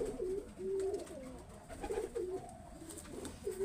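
A Pakistani Dabwale pigeon coos in repeated rolling phrases, close and fairly clear, several low throaty calls spaced across the stretch against a quiet background.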